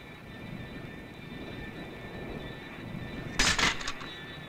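A fixed-wing aircraft drones steadily in flight, its engine hum faint and continuous throughout, broken by one brief brighter burst near the end.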